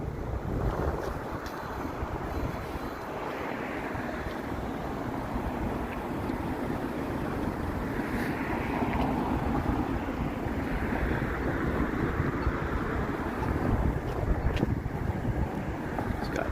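Strong wind gusts through a snowy Toronto street among tall towers on an evening walk. It makes a continuous, rumbling buffet of noise against the microphone that swells slightly now and then, with no voices.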